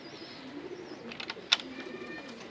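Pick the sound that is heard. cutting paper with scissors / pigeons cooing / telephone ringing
pigeons cooing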